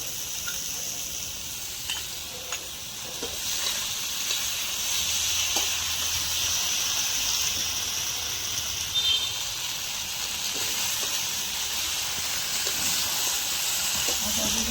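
Cumin paste sizzles and fries steadily in oil together with eggplant in a home kitchen, a continuous close hiss with occasional stirring scrapes and no talking.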